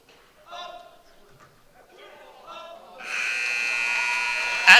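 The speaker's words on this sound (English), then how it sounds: "At the buzzer, the bucket will count by Kalia Lewis." A long, loud electronic buzzer sounds at the end of the second quarter of a varsity high school basketball game, following crowd noise and a commentator's voice, and holds steadily to the end.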